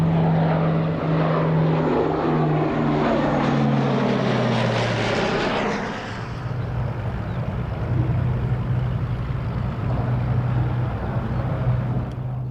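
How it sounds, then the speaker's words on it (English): A Lockheed Constellation, a large four-engined piston airliner, drones past at a vintage air show at Duxford, its loud propeller roar with a steady low hum shifting in pitch as it passes, then fading to a rougher, more distant rumble. "here is possibly the most beautiful, big, piston-engined aeroplane there's ever been"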